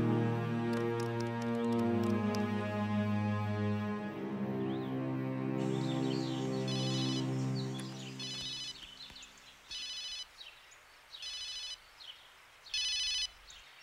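A telephone rings in a Marathi film scene: four short electronic ring bursts, evenly spaced, follow after the background music fades out, clear and close.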